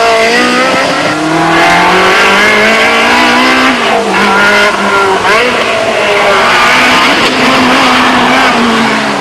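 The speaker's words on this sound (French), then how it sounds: "tant le son du V8 est enchanteur dans les tours" Ferrari 360 Modena V8 pulling hard under acceleration, a loud, close engine wail climbing in pitch, with brief dips at gear changes before it rises again, no voices.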